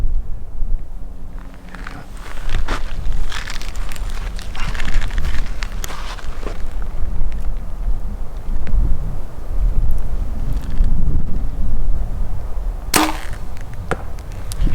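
Wind gusts buffet the microphone outdoors during an elk hunt, a continuous close roar of rushing air with occasional rustles and thumps of movement and gear.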